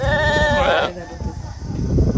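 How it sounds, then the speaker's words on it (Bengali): A goat gives a clear, wavering bleat up close at a hillside goat farm in rural Oman, followed by outdoor background noise and a person talking. "একদম পাহাড় একটা খামার দেখলাম ছাগলের খামার"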